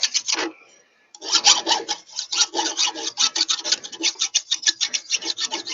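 A metal file rasps a burr off a log splitter's hydraulic cylinder in quick repeated strokes, close and scratchy, with a short pause near the start and then a fast steady rhythm, no talking.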